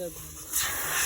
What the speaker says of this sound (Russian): фильтрик продули